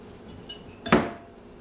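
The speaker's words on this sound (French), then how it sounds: "OK, on va bien mélanger, on est homogène" Sugar pie ingredients being mixed in a bowl, with a quiet utensil scrape and then one sharp clink of metal against the bowl near the middle, close and brief, with no talking.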